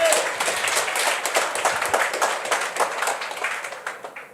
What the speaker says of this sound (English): Can we give a round of applause again?